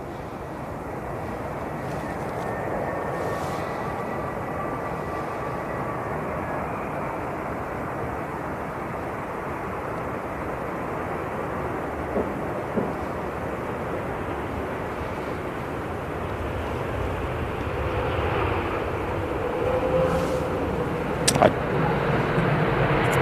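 Steady broadband roar of an aircraft at Manchester Airport, continuous and fairly distant throughout, with a faint rise near the end and a few brief clicks.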